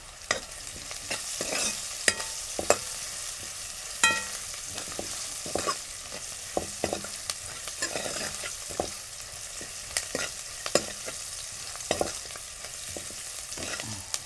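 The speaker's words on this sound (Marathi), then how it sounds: "आपण आता पुन्हा ढवळून घेऊ." A spoon stirs a thick besan (gram flour) mixture in a pan with cooked beans, scraping and tapping in irregular strokes over a soft, continuous sizzle, close by with no talking.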